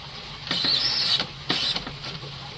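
An electric boat's autopilot turning the steering wheel, giving short mechanical whirring and creaking bursts in two main spells, close by over a quiet background with no talk.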